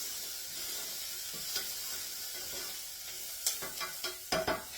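Chicken divan mixture is stirred in a pot over a soft, steady simmering hiss, with a few close spoon scrapes and clinks clustering near the end.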